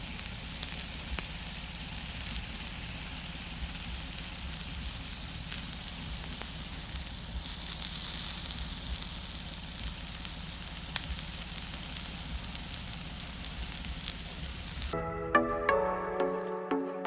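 Steady, loud sizzling of oiled spicy chicken on an outdoor grill in a forest near Kodaikanal as the pieces are turned over with tongs, a constant hiss that cuts off abruptly near the end.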